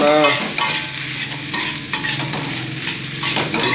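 Nasi goreng (fried rice) with onion, egg and salt being stirred in a hot pan, a steady sizzle and frying hiss with repeated scraping strokes of the spatula, close and fairly loud throughout with no talking.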